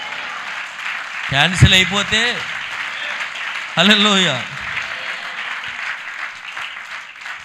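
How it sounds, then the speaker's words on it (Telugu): A church congregation claps during a sermon, a steady wash of applause running beneath a preacher's loud, drawn-out exclamations. "గట్టిగా చప్పట్లు కొట్టాలి."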